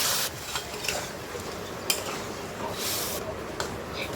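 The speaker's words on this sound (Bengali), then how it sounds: "2-3 মিনিট নাড়াচাড়া করে আমি একটু গরম জল দিয়ে দেব।" Hot water poured into a pan of chickpea ghugni, giving bursts of hissing sizzle and bubbling amid a few clinks and stirring scrapes, close up with no voice.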